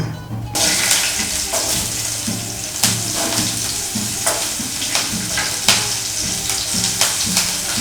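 Green chilies fry in a pan for sprouts egg burji, with a loud sizzle starting abruptly and holding, while a spoon stirs in rhythmic scraping strokes and metal clinks. There is no talk.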